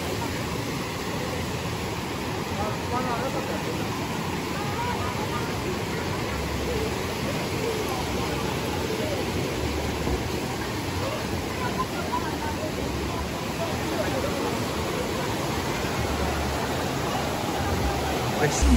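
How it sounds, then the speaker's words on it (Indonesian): Steady broadband roar of the Jumog waterfall fills the scene continuously, with a packed crowd of holiday visitors murmuring underneath throughout. "akhirnya kita sampai di air terjun"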